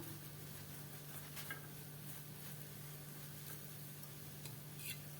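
Besan poli, a gram-flour flatbread, sizzles faintly in a little oil on a hot pan just after being flipped, a soft steady crackle with a low hum beneath and a few light scraping ticks.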